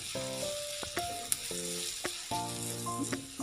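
Onions sizzle steadily in a hot pan with salt and turmeric, stirred with a few sharp scrapes and clinks of a spoon against the metal, close and continuous.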